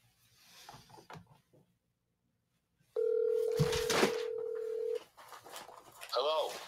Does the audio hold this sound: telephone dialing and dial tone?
yes